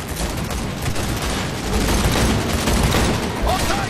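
Gunfire during a firefight in Cyberpunk 2077, a continuous loud wash of rapid shots and booms with no clear gaps, heavy and close, with a voice shouting faintly beneath it.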